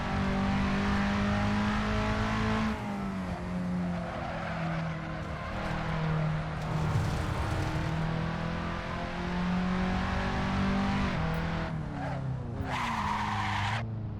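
Race car engine from Assetto Corsa, a Skip Barber car lapping Laguna Seca, droning loud and steady throughout with pitch rising and falling through gear changes, plus tire skids and squeal into corners.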